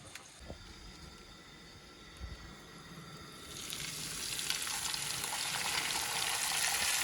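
Squid and pompano sizzling in hot oil, a crackling hiss that builds and grows louder partway through, with a few soft clinks early on.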